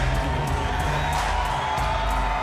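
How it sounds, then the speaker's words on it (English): A WCW Monday Nitro arena crowd cheers and roars steadily for Lex Luger, a dense, loud wall of fan noise with whoops, sustained throughout. "Look at the fans standing, cheering the total package Lex Luger, former world heavyweight champion."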